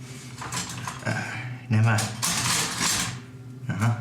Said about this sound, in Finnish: Tämä haarukka ja seuraava veitsi, jonka täältä poimin